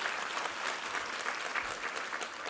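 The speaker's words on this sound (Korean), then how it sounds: "우리 하나님께 감사와 영광의 박수 올려드리겠습니다." A church congregation claps together during a Sunday worship service, a dense, sustained round of applause from many hands filling the hall.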